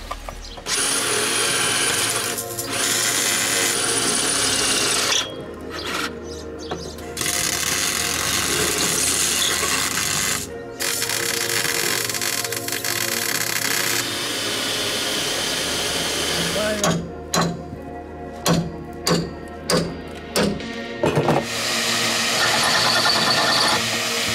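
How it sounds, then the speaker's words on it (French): A drill bores out spot welds on the turret of a Toyota Hiace 4x4 van, loud squealing bursts that start and stop repeatedly, ending in a run of short pulses. "je vais continuer à dépointer la tourelle là-bas"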